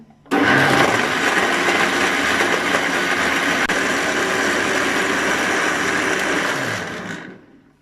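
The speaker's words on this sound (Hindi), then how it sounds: "2 मिनट के लिए ब्लेंड करेंगे" Blender whirring steadily at high speed through a khoya and date milkshake with ice, loud and continuous for about seven seconds before spinning down, no talking.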